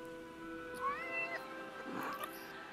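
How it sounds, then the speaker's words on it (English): A cat in the Forspoken video game gives a couple of drawn-out meows over a steady game background hum, with no talking. "Aw, that's a nice kitty cat."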